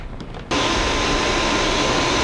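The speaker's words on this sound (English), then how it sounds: "use a vacuum cleaner to suck up all the chips" A vacuum cleaner switches on during die grinding of a finished aluminum big bore engine case, jumping abruptly from low hum to a loud, steady, broadband roar that continues to the end.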